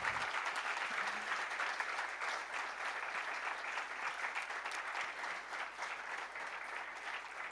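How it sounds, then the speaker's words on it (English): Steady audience applause for the speakers fills a sabha gathering hall, dense continuous clapping holding evenly for several seconds with no speech over it. "Can we all give them a huge round of applause?"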